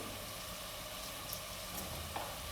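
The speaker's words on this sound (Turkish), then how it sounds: "Tuzla dövüp yine kavrulması için soğanları üzerine ekleyeceğim." Onions fry in a pan for a carrot vegetable soup, a faint, steady sizzle running evenly throughout with a few tiny crackles and no voices.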